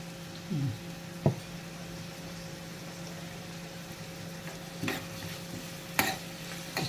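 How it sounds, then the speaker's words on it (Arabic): Spiced chicken liver and gizzards stir-fried in a pan, with a steady low sizzle and a few sharp utensil scrapes and clinks against the pan, close up and with no talking. "اشوحها كده بس تشويحه كده"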